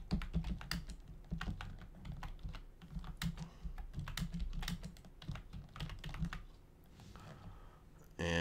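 Rapid keystrokes on a computer keyboard come in quick irregular runs, close and fairly quiet, as words are typed in all caps for a crafting project, with a brief pause near the end.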